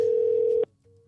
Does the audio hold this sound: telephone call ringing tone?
yes